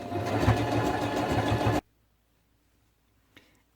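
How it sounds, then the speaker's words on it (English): A sewing machine stitches a small cuff seam on a toddler's dinosaur onesie costume, a steady rapid whir that cuts off sharply after about two seconds, followed by near silence and one faint click. "Is it the most beautiful cuff seam in the world?"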